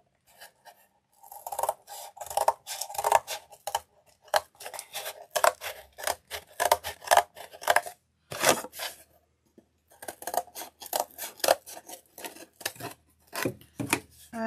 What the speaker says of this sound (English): I want you to cut along this section